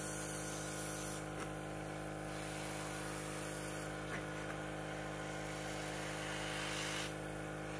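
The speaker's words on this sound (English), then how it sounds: "I just want to show you how easy it is to customize these little wooden crafts with the airbrush set up here" Airbrush hissing steadily as it sprays paint onto a small wooden birdhouse craft, a continuous close hiss with brief pauses and a low mechanical hum beneath throughout.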